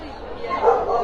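Dogs barking and yipping at a large outdoor dog show in Monaco with about 1,400 dogs, a brief burst of barks heard at a distance behind a voice.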